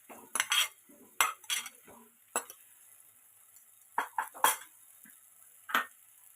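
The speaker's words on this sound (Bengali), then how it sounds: "মশলাটা ভালো করে কষানো হয়ে গেলে এর মধ্যে ভেজে রাখা আলুটা তুলে দিচ্ছি।" A utensil stirs fried potatoes into a poppy seed and chilli masala in a pan, giving quiet, close, intermittent metallic scrapes and clinks separated by short pauses.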